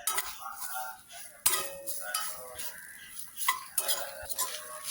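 A spoon stirs breadfruit masala as it roasts in an iron pan, giving repeated scraping and clinking strokes in an uneven rhythm, close and clear, with no talk over it.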